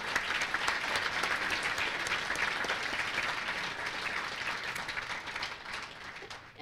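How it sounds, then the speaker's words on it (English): Audience applause at the 2019 Upper Midwest Emmy student production awards ceremony, a steady, dense round of clapping from a sizable crowd sustained throughout before cutting off at the end. "Let's give Slumberland a round of applause and a hand for all that they do"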